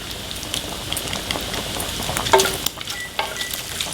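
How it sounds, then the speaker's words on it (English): Chicken carbonara with cheese is stirred in a hot pan, a continuous crackling sizzle broken by scraping and clinking spoon strokes, close and moderately loud with no voices. "Stir, stir, stir. Stirring everything. That's all we're doing right now is stirring."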